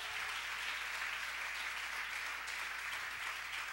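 Church congregation clapping hard during a Spanish-language worship sermon, a continuous wash of hands heard at a distance and fairly quiet, without pauses.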